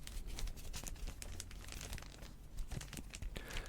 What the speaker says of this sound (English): in bags and boards, which I think give a nice crinkly sound